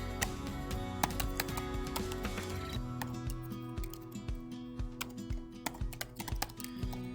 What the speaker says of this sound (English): You can type in your name